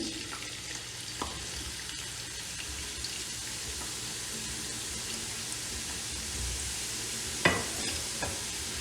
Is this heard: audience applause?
no